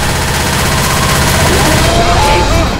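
Dense, loud gunfire from Left 4 Dead 2 in a Versus match, a steady rapid burst of automatic shots filling the whole stretch without pause.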